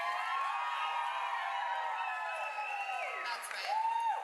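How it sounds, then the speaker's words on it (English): A crowd of guests claps and cheers with excited shouts and high-pitched whoops, a continuous lively roar that swells toward the end. "Feel free to clap, cheer, or scream their names"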